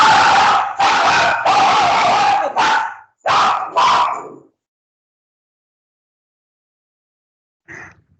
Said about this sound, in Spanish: hay un perrito aquí en la casa y se me alborotó aquí con los gatos